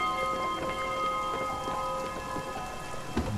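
Rain in the video game Spiritfarer falls steadily as an even, hissing patter with scattered drops, under a soft sustained musical tone and with no voices.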